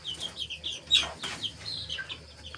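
Chickens at a local farm in Nepal cluck and squawk close by, a busy run of short repeated calls with one louder squawk, against a quiet background.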